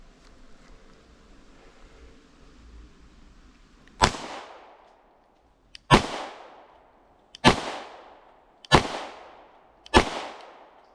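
Five sharp gunshots from a Glock 19 9mm pistol, fired at a range after a quiet stretch, each a loud close crack followed by a decaying echo, spaced about one and a half seconds apart.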